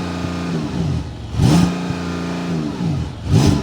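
A Porsche 911's 3.6-liter flat-six engine with electric turbocharger revs up sharply twice, rising and falling in pitch, with a throaty idle rumble between the bursts.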